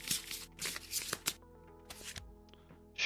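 A deck of playing cards gets a triple shuffle: three quick riffling bursts, close and crisp, followed by a softer tap and a short rustle at the end.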